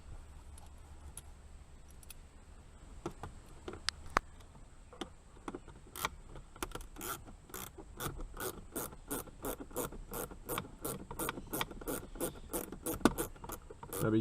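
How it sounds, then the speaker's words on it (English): Two Torx screws are backed out while fitting a carbon fiber gauge, heard as scattered faint clicks that build into a steady run of sharp, close ratcheting ticks. "We're just going to remove those two Torx screws."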